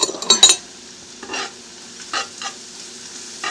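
Homemade tomato soup with Italian seasoning and red pepper flakes cooks down in a pot: a few close utensil clinks, then soft bursts of sizzling and stirring scrapes, with no speech.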